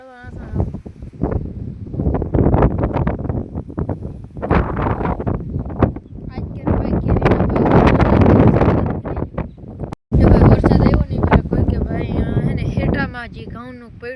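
Strong wind gusts over a wheat field, roaring and buffeting close to the microphone in long surges with one brief cut-out, while someone talks through it.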